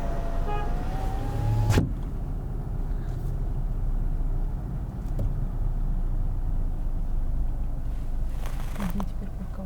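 A car drives along a road toward Podgorica, with a steady low rumble of engine and tyre noise throughout, a brief whir near the start and faint passing sounds, heard from inside the cabin.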